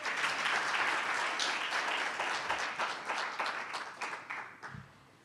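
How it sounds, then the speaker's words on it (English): A room of attendees at an Eastern Cape investment roundtable applauds the Premier, the clapping starting full and lively and then thinning into scattered claps as it fades out. "Can we again give the Premier another round of applause?"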